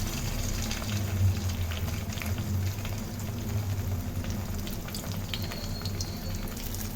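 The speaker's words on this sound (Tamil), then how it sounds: "ஷாலோ ஃப்ரை தான் பண்ண போகிறோம்" Paneer tikka snacks shallow-fry in oil in a pan, giving a steady, close crackling sizzle with fine bubbling that runs evenly throughout and has no voices over it.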